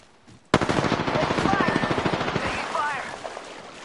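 Automatic gunfire in Apex Legends bursts in abruptly and rattles on in rapid, close, loud rounds for about two seconds, then eases into quieter game sounds with a faint voice-like trace.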